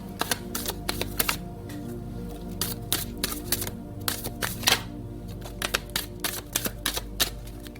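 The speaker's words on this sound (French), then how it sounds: "je tire les 6 dernières cartes" Tarot cards being drawn and laid down one after another, a series of crisp, close snapping and tapping clicks in an irregular rhythm, fairly quiet with no talking.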